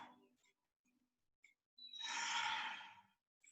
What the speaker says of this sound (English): One more deep ujjayi breath.